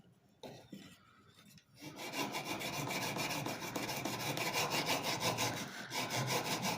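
Handsaw cutting through wood or MDF, a steady rapid back-and-forth rasping of close strokes that starts after a short quiet pause and runs continuously to the end.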